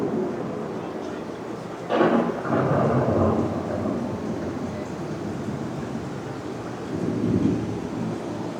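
A thunderstorm effect on an indoor theme-park ride: steady heavy rain hiss with a sudden loud thunderclap that rumbles on for a couple of seconds, then a second swell of rumble, all close and dense.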